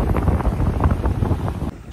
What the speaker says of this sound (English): It sounds a bit blowy.